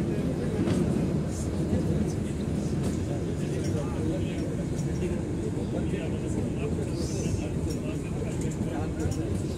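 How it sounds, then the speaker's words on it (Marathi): A small mountain train runs through tunnels and hilly valleys, giving a steady, loud rumble of wheels and carriage noise that fills the whole stretch without letting up. "अशी छोटी ट्रेन आहे."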